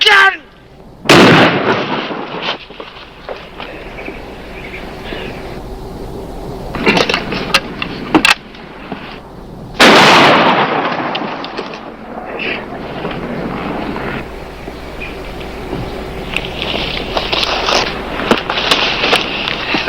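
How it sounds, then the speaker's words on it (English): Shotgun blasts in a western TV series ring out as two loud, booming shots about nine seconds apart, with scattered sharper bangs and pops between them and voices talking. "shotgun!"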